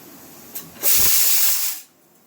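A pressure cooker lets off a loud burst of hissing steam after its whistles, starting abruptly, holding for about a second and then dying away to quiet.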